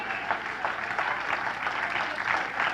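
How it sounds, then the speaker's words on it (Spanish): Congregation applauding the Lord during a church sermon, a steady dense patter of many hands clapping at moderate distance throughout, with no talk over it. "Dele un aplauso al Señor"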